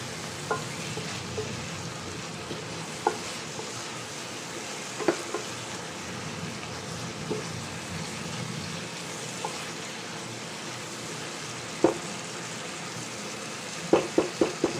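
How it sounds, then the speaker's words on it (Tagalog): Tomatoes are mashed in a hot frying pan while cooking tofu and pork with black beans, giving a constant moderate sizzle with occasional soft taps and knocks of a utensil against the pan. "At ito tinutuloy-tuloy pa natin yung ating pagmamash ng ating kamatis."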